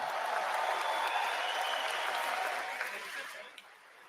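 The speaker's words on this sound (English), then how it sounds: "Let's give them a round of applause as well." Crowd applause at a political rally in Oshawa, Ontario, broad sustained clapping from a large gathering that holds steady, then thins and fades toward the end, heard from some distance.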